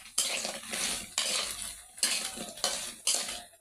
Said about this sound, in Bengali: তার জন্য আমি বড়ি ভাজি নিচ্ছি।